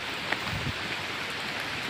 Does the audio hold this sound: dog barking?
no